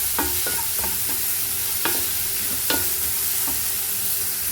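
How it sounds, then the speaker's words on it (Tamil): Ginger and onions sauté in a pan with a continuous hiss of frying oil, punctuated by irregular scraping and clinking strokes of a spoon stirring, close up and with no talking. "இஞ்சி சேர்த்துக்கலாம் போட்டு நல்லா வதக்கணும்"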